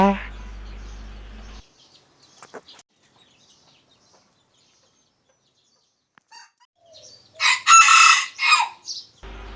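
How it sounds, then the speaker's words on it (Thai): A rooster crows loudly near the end, a harsh drawn-out call after a mostly quiet stretch with a few faint clicks. "พี่ไก่ต้งอย่าร้องเสียงดัง"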